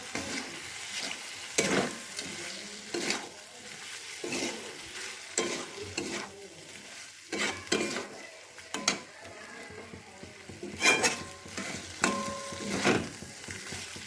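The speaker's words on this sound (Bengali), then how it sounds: "দিয়ে দিলাম ভেজে রাখা ঢ্যাঁড়স। এবার এটা ভালো করে মিশিয়ে নেব।" A spoon stirs fried okra into masala in a pan, with repeated scraping strokes at an uneven rhythm over a soft background sizzle.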